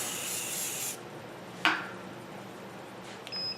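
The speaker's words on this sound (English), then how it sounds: "So I'm going to spray it" Spray can hissing as finish is applied to a cholla and resin pen blank on a lathe, one steady close burst about a second long, followed by quiet shop noise and a couple of faint clicks.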